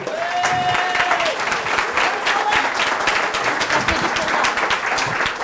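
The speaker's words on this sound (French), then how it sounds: "ces professionnels que vous pouvez applaudir, s'il vous plaît" Audience applause for professional oyster shucking contestants at an oyster festival competition, a steady crowd clapping throughout, with a whistle or tonal squeal briefly heard near the start and faint background voices.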